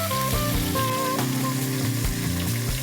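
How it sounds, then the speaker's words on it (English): Braciole sears in a hot pan, a continuous loud sizzle and crackle of frying meat with steady bubbling fat and no talking. "We want to get the ends, we want to sear these ends, so I'm going to hold this up like this for a little bit."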